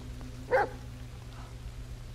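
A single short dog bark inside the horror video game The Medium, sounding once at moderate level over a low, steady ambient hum.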